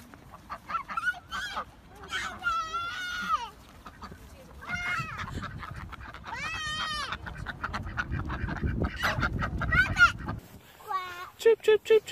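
A duck quacks in a run of honking calls, close and fairly loud, with children and adults talking and laughing around it in a home setting.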